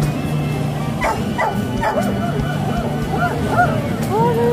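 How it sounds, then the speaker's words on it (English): Small dog yipping and barking a few times amid the chatter of a busy outdoor farmers market in Bossier City, Louisiana, with people talking nearby throughout. "Look at the dog."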